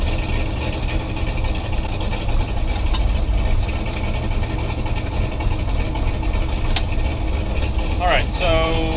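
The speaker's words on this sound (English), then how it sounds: "she's pulling a lot of fuel at idle now that we're not on E85" A car engine idles steadily with an aftermarket throttle body and stock GM parts, running on fuel other than E85 with a struggling idle, a constant close low drone throughout while someone speaks near the end.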